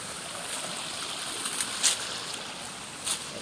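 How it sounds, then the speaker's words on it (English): A small stream of water flowing over land in Sri Lanka, a soft continuous trickle and rush heard alone, with a few faint brief splashes or clicks standing out. "Now we can see there is another piece of water stream"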